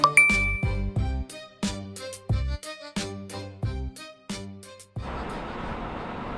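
A series of bright chime tones rings out in an even rhythm for about five seconds, each note decaying quickly, then a steady broadband hiss takes over; it is an incoming-message notification in a truck cab during a winter trucking day.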